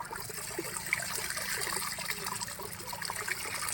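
Mutton pieces being washed by hand under running water from a borewell on a village farm: a steady trickling, splashing flow close by, with no talk over it.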